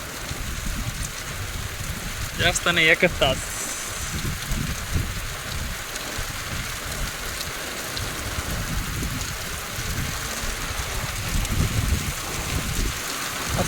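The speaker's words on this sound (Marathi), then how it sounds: "पाऊस पब्लिक पाऊस चिडलाय आज असं वाटायला लागलाय" Steady heavy rain pours down in a village setting, a constant broadband hiss of falling water that runs throughout, with a brief burst of a voice early on.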